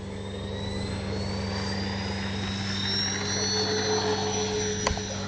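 A FlightLine OV-10 Bronco RC plane with AS3X+ flies over a windy field, its steady electric motor whine holding a constant drone with a slowly rising pitch, fairly distant, and a brief click near the end.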